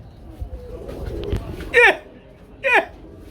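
Two separate coos from black Mumbai breed pigeons, each a short throaty burst, over a low background murmur.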